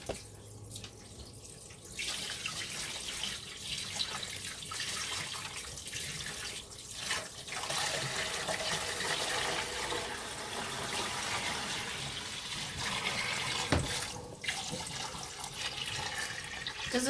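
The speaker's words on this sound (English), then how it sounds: "So we're going to add our brine here." Turkey brine poured into a container over a whole turkey, a steady splashing liquid stream running on for most of the stretch with a brief pause near the end, close and fairly loud.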